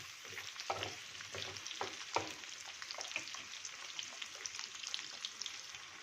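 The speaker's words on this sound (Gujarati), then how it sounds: "ડુંગળીને પણ આપણે સોતળી લઈએ. 2 મિનિટ આવી રીતે આપણે સોતળી લેશું." Onions sautéing in a pan for a Punjabi-style gravy, a quiet steady sizzle with occasional stirring scrapes and clicks throughout, no voices.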